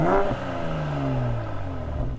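A BMW 840i with all-wheel drive and M package revs hard, its engine note rising sharply at first, then settling into a steady, loud drone with gliding pitch.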